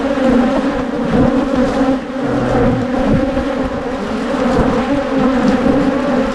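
A dense, steady hum of many honey bees buzzing together around a hive, loud and close, continuous throughout with no voices.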